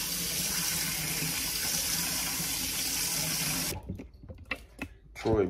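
Tap water running steadily into a sink while an aloe vera leaf is rinsed, a close continuous gush that cuts off abruptly partway through, followed by a few small handling knocks.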